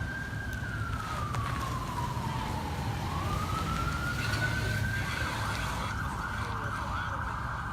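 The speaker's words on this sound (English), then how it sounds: "We've got another ambulance coming in." An ambulance siren wails, its pitch sweeping down and then rising again, loud and fairly close over a steady rumble of traffic.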